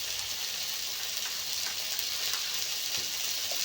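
Ginger paste with cumin and coriander paste frying in a pan for a taro and fish curry, a soft continuous sizzle at low volume with a few faint scrapes, no voices.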